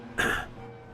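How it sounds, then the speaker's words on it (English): A single short throat-clearing cough close into a microphone from someone with a sore throat, sudden and fairly loud, then fading back to quiet room noise. "I apologise if I'm coughing down the microphone."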